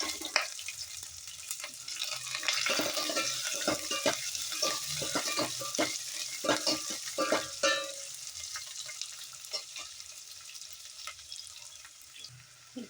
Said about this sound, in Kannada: ಇವಾಗ ಅದಕ್ಕೆ ಈರುಳ್ಳಿ ಹಾಕೊಳ್ಳೋಣ.